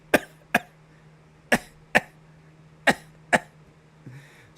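A voice imitates a delivery van's backup alarm that sounds like it is coughing: six sharp, cough-like bursts in evenly spaced pairs, close and fairly loud, followed by a softer trailing noise.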